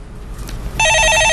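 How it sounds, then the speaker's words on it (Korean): A telephone rings on a Korean radio stock-market phone-in show, a loud steady electronic trill starting partway through after a quieter stretch of background noise. "예, 전화 받아보겠습니다."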